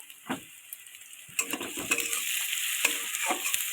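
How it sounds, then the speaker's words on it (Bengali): Spices and fish with cauliflower are stirred in a hot frying pan, with a steady sizzle under scraping strokes of a spoon against the metal, close and moderately loud, with no talking. "এবার এটাকে ভালো করে একটু নাড়াচাড়া দেবো"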